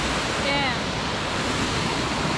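Waterfall in Pureza, Rio Grande do Norte, surrounded by forest and spilling into a sandy-bottomed pool, a dense, constant roar of falling water filling the scene without a break.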